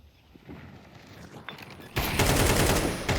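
Video game firefight in the shooter Nova: faint scattered shots build up, then a sudden loud burst of rapid automatic gunfire takes over and sustains to the end, with a voice talking in the background.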